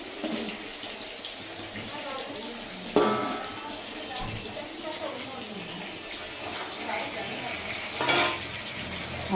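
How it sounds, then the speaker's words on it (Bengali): Potatoes fry in a pan in a home kitchen, a low steady sizzle with occasional stirring scrapes and a couple of louder clatters, quiet and close, with faint voices at times in the background. "মাছের আলুগুলো খুব সুন্দর করে ভেজে নিই।"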